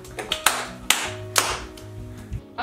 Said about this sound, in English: Okay, first we're going to clap.